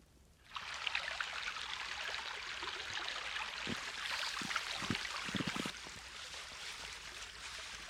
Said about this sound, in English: there was a off-flow that had been created just due to the extra water melting from the snow off from the loch